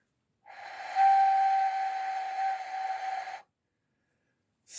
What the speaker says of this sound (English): So, that's a whistle.